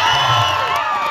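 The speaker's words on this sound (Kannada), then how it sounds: "ಮುಂಬೈ ಗೆಲ್ತದನ್ನವ್ರು ಒಂದ್ಸಲ ಚಪ್ಪಾಳೆ ಕೊಡ್ರಿ ನೋಡೋಣ." A crowd at a women's kabaddi championship match between Mumbai Police and Haryana cheers in a brief, dense, loud burst of voices.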